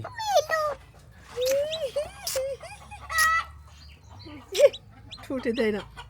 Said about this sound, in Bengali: মুরগি বাচ্চা আছে